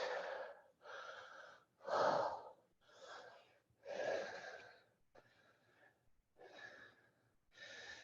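Deep, slow breaths during a yoga hold, eight audible inhales and exhales in a steady rhythm, close and breathy with a rasping edge, no talking.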